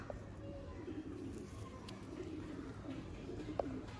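Breeder pigeons coo softly and intermittently, faint and somewhat distant against a low background hum.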